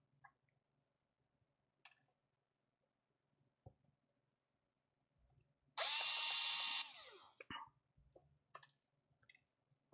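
A small power tool whirs for about a second while unscrewing screws on a 1/18 Rochobby Katana RC car, a steady high buzz amid scattered quiet clicks and handling taps on a bench.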